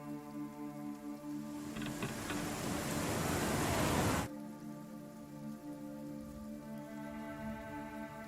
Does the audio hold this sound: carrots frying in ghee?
no